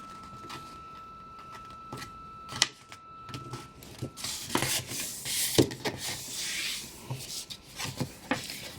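A sheet of paper is folded in half, giving soft crinkling and rustling with a few sharp creases and taps, close by and growing busier toward the end, with no talking.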